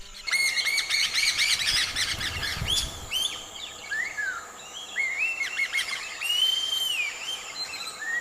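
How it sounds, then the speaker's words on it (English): A bustling colony of birds around hanging woven grass nests, with many overlapping chirps, whistles and rising tweets, loud and near, chattering continuously with no voices. "Cut to a bustling colony of pendulous nests, woven from dried grass and hanging from a single tree like a strange,"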